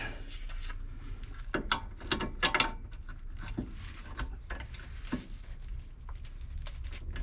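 A ratchet with a swivel turning a bolt on a car's lower control arm, giving bursts of rapid clicking ratchet strokes with metallic knocks, close up and without talk.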